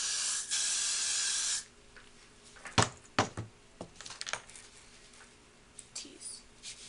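A loud, close burst of hairspray hisses onto an LSP wig for about a second, followed by quieter rustling and soft ticking handling sounds as the hair is worked.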